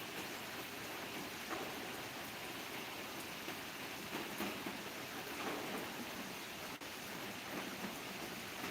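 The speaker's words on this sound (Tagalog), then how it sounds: "Grabing ulan dito." Heavy rain falls steadily outdoors in a rural field in the Philippines, a dense, even hiss of downpour that carries on without a break and is heard alone, with no talk over it.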